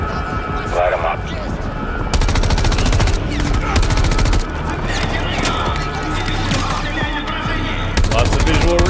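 Rapid automatic gunfire from the Modern Warfare 3 campaign, dense bursts under a loud game soundtrack and explosions, with voices talking over the action.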